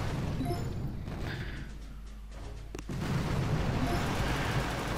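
Cannon fire and explosions from a Boom Beach attack on a level 5 Dr. Terror base with super cannons form a loud, dense, continuous rumble of blasts. A sharp bang cuts through near the middle, then the barrage swells again.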